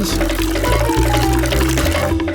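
A cartoon drink pours out of a drilled cocktail shaker as a continuous loud liquid gush, layered over sustained musical tones for the whole short stretch.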